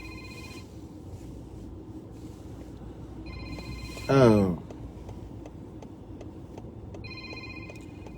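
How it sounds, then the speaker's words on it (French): A telephone rings on after being picked up, its repeated electronic tones sounding in short bursts with gaps between them, and a voice briefly exclaims partway through. "J'ai décroché, mais ça continue de sonner."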